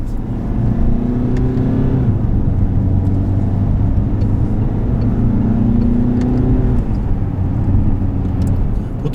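A Peugeot 508 four-cylinder diesel engine revving from inside the cabin, a loud steady drone with rising and falling tones as revs climb and ease, no talking.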